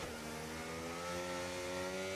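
A race car engine in a racing video game holds a steady, high-revving drone as it crosses the finish line, loud and continuous for the whole moment.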